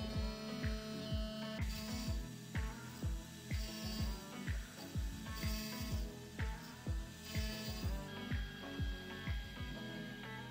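A Carvera Air desktop CNC machine machines the final face of a cube-shaped part to free a ball inside, its rhythmic, repeating mechanical clicks and whirs steady and close throughout.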